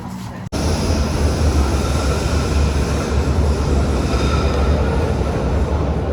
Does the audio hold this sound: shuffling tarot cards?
no